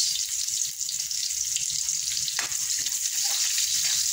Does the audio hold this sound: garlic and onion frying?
yes